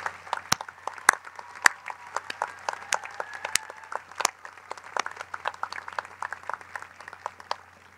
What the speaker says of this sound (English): Could you please give a round of applause to our wonderful Cal State L.A.